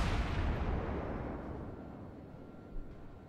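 Warship guns firing from the ship Nürnberg in World of Warships: a heavy booming blast rolls out and slowly decays into a long rumble, with a small pop near the end.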